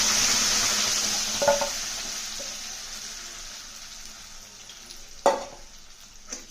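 Cooked lentils for a raw mango dal go into a hot tempering of crushed spices, curry leaves and asafoetida in a pan, starting with a loud hiss that fades, broken by two sharp spoon clanks.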